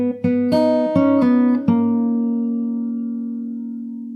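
Guitar plays a short fill of about six quick plucked notes, then lets the final note ring out and slowly fade, close and alone.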